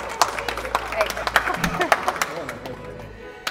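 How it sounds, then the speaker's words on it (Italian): An audience at a gallery event applauds, giving a run of sharp, fairly close claps that thin out toward the end, with some voices mixed in. "un applauso"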